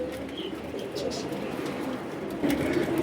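Pigeons kept for sale coo in soft repeated low throbs, close by and steady, with brief scuffles and rustles among them and no talking.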